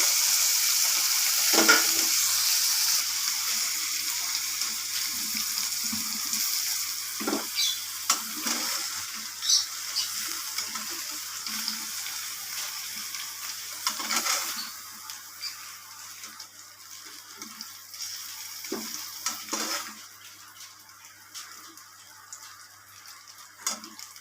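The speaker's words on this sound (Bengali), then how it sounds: "আমার পনিরগুলো মোটামুটি ভাজা হয়ে গেছে বেশি ভাজবো না" A long, steady sizzle of paneer frying in a pan, broken by occasional clinks and scrapes of a utensil, with no voices.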